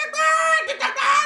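A human voice imitates a cockerel crowing as part of a telling of the Musicians of Bremen folk tale, giving one sustained, tuneful call that rises and wavers for just over a second.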